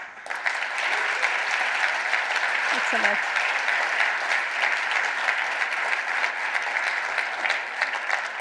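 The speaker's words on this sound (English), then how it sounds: "we give them a big, big round of applause." Audience applause at a startup pitch night fills the room, steady and dense from start to finish, with a brief spoken word from someone on stage partway through.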